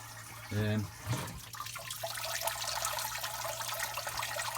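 A small, cheap pump circulates water through a homebrew HERMS system, with a steady watery rush and trickle building after a couple of brief gurgles at the start and continuing at moderate level.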